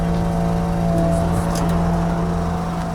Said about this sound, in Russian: Что это заработало? Насос.